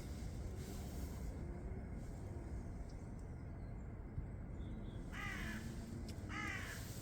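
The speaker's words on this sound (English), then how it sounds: "I can hear a crow or a raven, whatever you want to call it." Two short harsh caws from a crow ring out near the end, fairly distant, over a steady background rumble, in a cold woodland along a quarryman's walking trail.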